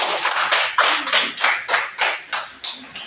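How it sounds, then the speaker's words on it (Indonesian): A classroom of students clapping for a presenting group, a rhythmic, unison series of loud claps in a steady beat, about nine or ten strong strokes close to the microphone. "Tepuk tangan untuk kelompok PIR."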